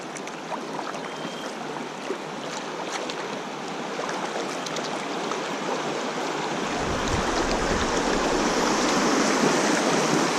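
Water of the Lower Salt River flowing past a kayak near Bulldog Island, a continuous rushing and splashing of small waves, close and steady, growing fuller and louder toward the end, with no voices.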